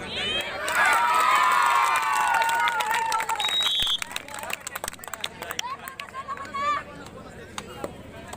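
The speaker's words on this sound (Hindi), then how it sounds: "बस इसी तरह तालियां बजाते रहिए, बच्चों का हौसला बढ़ता है।" Spectators at a kabaddi match clap and cheer in a loud, dense wash, with shouting voices over the crowd noise that fades somewhat toward the end.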